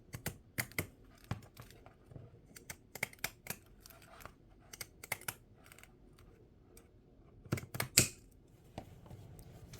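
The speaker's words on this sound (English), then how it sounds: "I'm using some really strong pinking shears" Heavy-duty pinking shears snip through outdoor canvas lining fabric in a quiet room, giving short irregular crunching cuts in clusters separated by pauses.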